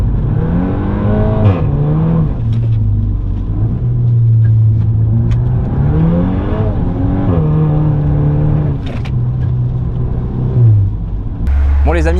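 A four-wheel-drive car attempting drifts on a track, engine repeatedly revving up and dropping in rising and falling sweeps, loud and close, with people talking over it.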